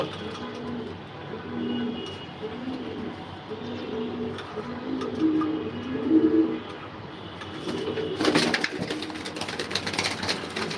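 Racing pigeons, some unwell with colds, coo in a loft in a repeating soft, rhythmic rolling pattern close by, before a brief burst of rustling clatter near the end.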